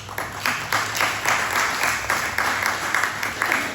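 Tigers fans applaud steadily throughout, a dense wash of clapping with a few louder swells.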